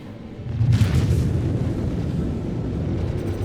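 A spaceship blows apart in the space combat game Star Citizen, a heavy low boom swelling at once and rolling on as a long rumbling roar that slowly fades.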